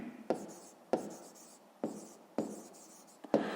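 A pen writes a math sum by hand, giving quiet scratching strokes in about six short bursts, each starting with a soft tap, close up and faint.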